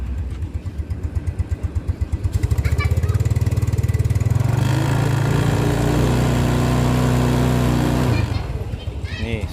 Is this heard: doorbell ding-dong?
no